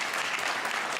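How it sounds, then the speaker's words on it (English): Brief burst of dense clapping from the audience at a guide dog graduation ceremony, loud and continuous throughout with no voices on top. "let's clap"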